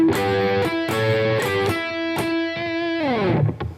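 Distorted electric guitar playing a solo lick at slow speed: sustained, heavily overdriven notes that step and bend, ending in a downward slide and trailing off.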